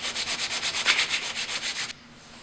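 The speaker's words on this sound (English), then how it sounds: "Give the bottom and top surfaces a good sanding." Rhythmic back-and-forth strokes of sandpaper rubbing on the top and bottom surfaces of a wooden lamp, about a dozen even passes close by, then stopping abruptly.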